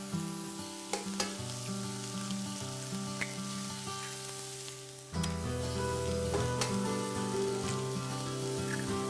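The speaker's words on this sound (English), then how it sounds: "So right in the center, I'm just going to crack a couple of eggs." Eggs cracked into the center of a pan of cauliflower lentil sprouted fried rice, sizzling steadily with a few soft taps, the frying growing louder and fuller partway through.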